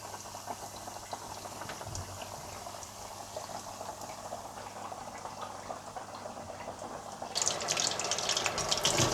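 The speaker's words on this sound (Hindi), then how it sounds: "फिंगर फिश को मीडियम फ्लेम पर रखकर गोल्डन ब्राउन होने तक फ्राई कर लें" Finger fish deep-frying in hot oil over a medium flame, a steady bubbling hiss like a low boil that swells louder and brighter toward the end.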